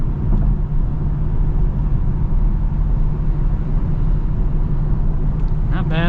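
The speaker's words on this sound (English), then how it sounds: "I do hear a bit of road noise" Steady low rumble of road noise heard from inside a moving 2025 Jeep Wagoneer S electric SUV, constant and droning, with a brief higher squeak near the end.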